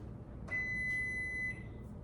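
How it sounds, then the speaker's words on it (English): A kitchen oven timer beeps once, a clear steady electronic tone lasting about a second, fairly loud against a low room hum while a key lime pie bakes in a 350 degree oven. "Okay, the timer has gone off."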